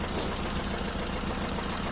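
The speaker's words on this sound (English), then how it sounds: "obviously that's the engine running nice and noisy" A Peugeot 205 engine running noisily with a new aftermarket fan fitted, a steady rough idle that drones close by and unbroken throughout, with no one speaking.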